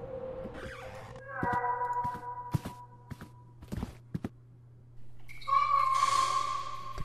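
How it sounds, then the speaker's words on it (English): A cat meows several times in The Last Door, muffled as if from behind a wall, the drawn-out cries mixed with footsteps and soft thuds over a low steady hum. "The cat seems to be meowing from behind this wall."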